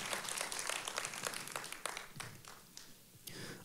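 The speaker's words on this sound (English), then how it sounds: "if you believe that, clap your hands and say amen" A church congregation claps hands together, a dense burst of applause that thins out toward the end, with faint voices mixed in.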